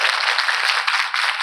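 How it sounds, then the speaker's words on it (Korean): An audience at a talk concert applauds continuously, with a dense, steady wash of many hands clapping and no voices over it. "우리 박수 부탁드리겠습니다."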